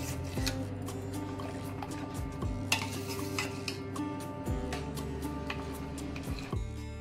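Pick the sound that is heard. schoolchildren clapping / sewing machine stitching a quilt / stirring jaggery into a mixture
stirring jaggery into a mixture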